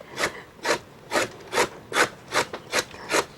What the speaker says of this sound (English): we have to scrape this cassava root. We scrape it out, take off all the skin.